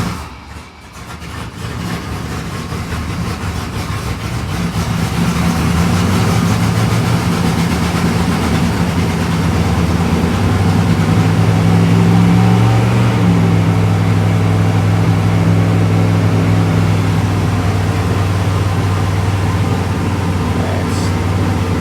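A 1968 Chrysler Newport's engine, flooding from a sticking float, idles rough and loud after starting, a steady heavy low rumble that swells after the first few seconds and holds, up close.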